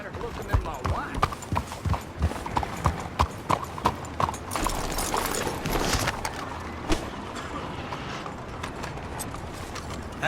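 Horse hooves clip-clop at a steady walking rhythm in Red Dead Redemption 2, crisp and fairly close, with someone talking over the footsteps throughout.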